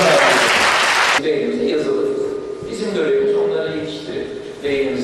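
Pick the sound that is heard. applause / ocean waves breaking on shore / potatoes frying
applause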